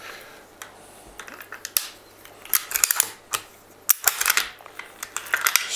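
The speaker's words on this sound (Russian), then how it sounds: "Снимаем затвор." Bolt being removed from an MP-155 shotgun, a run of sharp metallic clicks, knocks and slides, close and irregular, with short bursts of scraping between quiet gaps.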